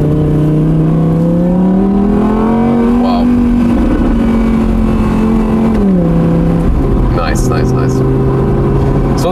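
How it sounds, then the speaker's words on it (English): An Audi R8 Spyder V10 of 2017, a 540 hp naturally aspirated engine, drones loudly from inside the cabin, its pitch rising and easing as revs change, with someone talking over it throughout. "classic naturally aspirated engine, the real old school stuff, high consumption, a lot of performance"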